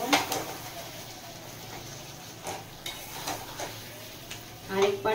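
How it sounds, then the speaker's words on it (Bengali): A pan of amra (hog plum) chutney gets stirred, with soft sizzling and a few sharp clinks and scrapes of utensil against metal, fairly quiet and close. "এবার একবার ঢাকাটা খুলে দেখব। একবার নাড়িয়ে দেব।"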